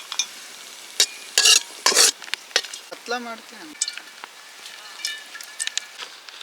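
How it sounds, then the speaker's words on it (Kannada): Raisins and cashews fry in a pan at an outdoor forest cooking spot, with scraping stirs and a few clanks of the spoon over a soft sizzle, all up close. "ದ್ರಾಕ್ಷಿ ಗೋಡಂಬಿನ ಫ್ರೈ ಮಾಡ್ಕೊಳ ಫುಲ್ಲು ಬ್ರೌನ್ ಕಲರ್ ಆಗಿದೆ"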